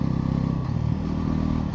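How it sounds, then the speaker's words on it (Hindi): A Bajaj Pulsar NS 400Z motorcycle running steadily while its gear is changed without using the clutch, producing a close, loud, even engine drone with a faint clack partway through and no sharp jolt. "विदाउट क्लच गियर को चेंज कर रहा हूँ"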